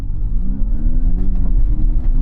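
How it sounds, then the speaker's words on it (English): A Mercedes-AMG electric concept car with three motors plays a synthetic induction engine note, a loud, close, steady low rumble with a slowly rising tone, with no talk. "it could be used to produce an induction noise, so that when you hear the car approaching, it has that proper AMG sound"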